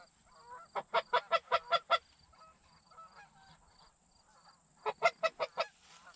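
Geese honk during a bird hunt in two clear bursts of rapid, evenly spaced calls, close and loud against a quiet background.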